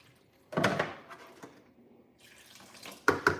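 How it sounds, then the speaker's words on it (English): Water is poured into thick okpa batter, with splashy gushes near the start and again near the end and quieter trickling in between, and no talking. "So I add more water."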